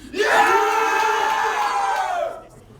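A loud crowd erupts in cheering and screaming, a sustained roar of voices that swells and then tapers off.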